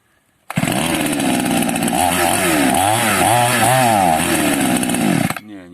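A Chinese chainsaw of the Nac Krischner or Demon type revving at maximum RPM, a loud, continuous high-pitched engine scream that wavers slightly before cutting off.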